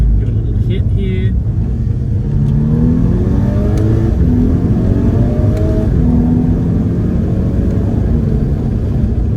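A 2011 Volkswagen Scirocco R in sport mode accelerates hard after a downshift, its engine note climbing through gears loudly from inside the cabin.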